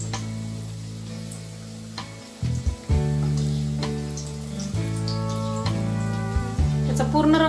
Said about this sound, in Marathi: त्यामध्ये हे तयार केलेले उंडे आपण तळून घेणार आहे